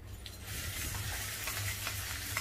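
Red chilies sizzle and crackle in hot oil in a pan while making chintaku podi, a steady close frying hiss with faint stirring scrapes throughout.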